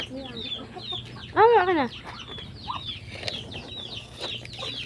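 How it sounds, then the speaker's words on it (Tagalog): Ducks at feeding time on a backyard farm, with a burst of loud excited quacking near the middle and steady chattering calls throughout, mixed with people talking nearby. "Excited na guys sa mga bibe."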